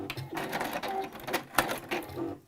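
A sewing machine back stitches on a fabric jewelry organizer pouch in short, uneven bursts of close mechanical whirring and clicking, with brief pauses between runs.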